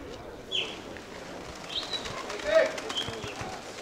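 Pigeons released at a festival celebration, with soft wing flaps and brief cooing and chirps heard faintly amid outdoor crowd murmur and nearby talk.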